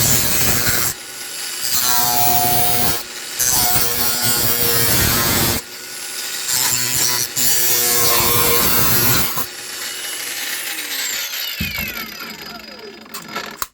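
Loud, harsh grinding and rasping of an angle grinder cutting a tin can, in long bursts broken by brief pauses, with a high whine rising near the end.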